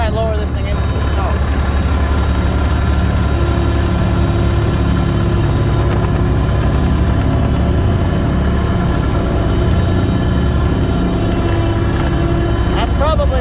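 A lawn mower engine runs continuously while it is lowered into snow, giving a loud, close, steady droning hum that holds unbroken throughout, with a voice speaking over it.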